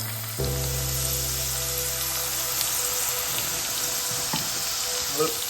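Okra sizzling and frying in hot coconut oil, a steady loud crackling hiss that starts abruptly and runs throughout, with light stirring clinks near the end.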